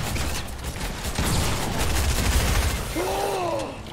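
Gunfire in the Fortnite battle royale, rapid bursts of shots rattling close and loud, with a brief pause and mechanical clicks among the volleys.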